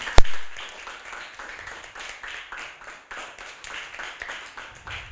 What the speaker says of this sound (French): On s'applaudit encore bien,